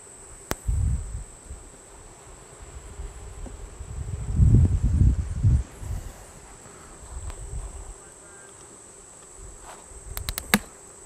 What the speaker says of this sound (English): I hear these girls go buzzing and buzzing and crazy like they don't have a queen